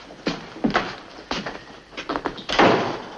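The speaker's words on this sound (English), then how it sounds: "Shut the door." A door is handled in a 1952 Western film's army orderly room, giving a series of knocks and thuds that build to a louder bang near the end, close and without speech.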